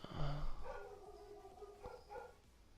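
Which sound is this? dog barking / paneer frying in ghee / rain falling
dog barking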